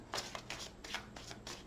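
Tarot card deck being shuffled by hand, several quick riffling bursts in a loose rhythm, close and fairly soft, with no talking over them.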